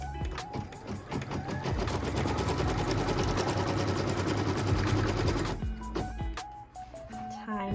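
A sewing machine runs steadily, stitching the tack-down line for piece 8 of a perfectly pieced quilt block, a dense continuous whir for about five seconds that then stops abruptly before a few clicks and handling noises.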